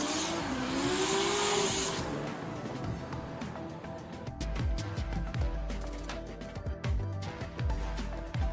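Drift car in a solo round of a drift competition, engine revving hard with tire squeal at the start, then continuous engine roar with repeated rev bursts, while a commentator talks over it.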